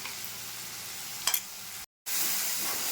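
Spice paste of ginger, garlic, green chilli, red chilli powder, coriander and cumin frying in a pan for a potato and pointed gourd curry, giving a steady close sizzle with a brief stirring scrape and a short silent gap.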